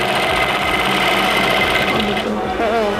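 Sewing machine stitching parachute fabric for a foldable bag, a steady fast mechanical whirr that runs throughout, loud and close, with a back-and-forth lock stitch at the seam's end.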